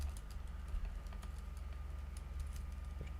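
Computer keyboard typing while entering Visual Basic 6.0 code, a steady run of soft, close key clicks over a low constant hum, with no talking.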